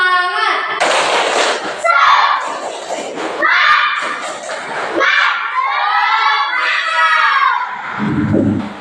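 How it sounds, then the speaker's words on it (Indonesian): A classroom of children performs the 'tepuk semangat' clapping chant, shouting rhythmic lines loudly together with claps between phrases, close and energetic throughout. "ice breaking kita pada hari ini yaitu tepuk semangat"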